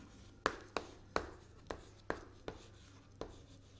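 Handwriting produces about eight crisp, separate strokes in an uneven rhythm, close and fairly quiet against a still background.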